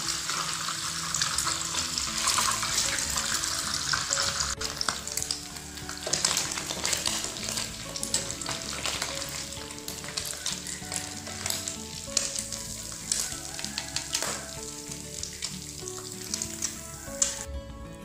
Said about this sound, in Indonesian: Tahu akan saya goreng sampai berkulit.